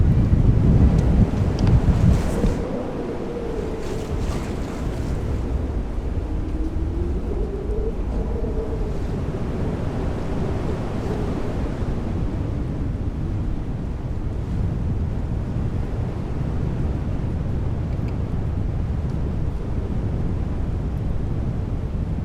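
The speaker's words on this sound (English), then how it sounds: "It's still a bit windy. It's about 24, I think now, 24 gusts." Strong wind gusts buffet a Lagoon 440 catamaran at anchor off Sardinia, a loud rushing roar with waves and water noise underneath, harsh microphone buffeting at the start, then a steady blustery wash.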